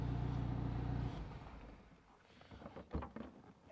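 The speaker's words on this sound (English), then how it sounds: "Let's go ahead and move this thing forward, see if there's any leaks." A 1957 Triumph TR3A idles with a low steady engine thrum, then the engine note drops away as the car creeps forward, leaving faint rolling and shuffling noises.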